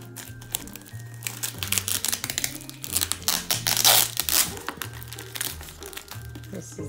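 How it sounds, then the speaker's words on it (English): A cardboard package being torn open gives close, irregular bursts of crinkling, crumpling and ripping, loudest near the middle, over a soft repeating musical background. "just opening up these packages and seeing what's inside"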